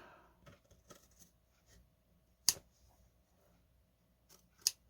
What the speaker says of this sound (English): just snip the edge off